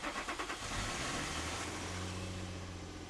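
An Infiniti G35 engine with a Z1 Motorsport intake cranks with quick rhythmic chugs, catches, and settles into a steady low idle.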